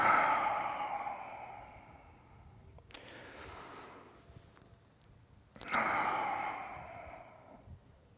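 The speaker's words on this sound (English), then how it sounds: "When I exhale, my body's gonna kind of sink and relax." Slow, breathy exhales during an upper body stretching routine come in two soft, drawn-out waves, each lasting a few seconds, with a quieter pause between them and no talking.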